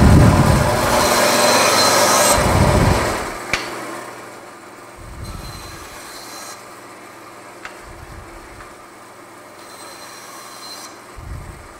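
A bandsaw in a woodshop slices through wood pieces: a loud, hissing burst of cutting at the start, then a quieter running whine broken by several short cutting passes.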